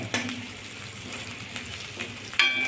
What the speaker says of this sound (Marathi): कढीपत्ता पण छान परतून घेणे.